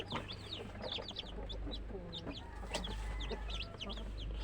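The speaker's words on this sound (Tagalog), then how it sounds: "Ayan po yung ating mga sisiw." Newly hatched chicks and nearby chickens fill the scene with constant high peeping and cheeping, plus occasional clucks, over a low steady background hum; no talking.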